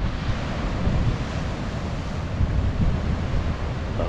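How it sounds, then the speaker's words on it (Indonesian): Sea waves crash and surge against the rocks at Kiama Blowhole on the Australian coast, a loud, continuous roar of surf with wind buffeting the microphone throughout. "ombaknya yang memecah ke batu karang."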